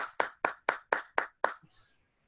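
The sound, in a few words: audience applause for the speaker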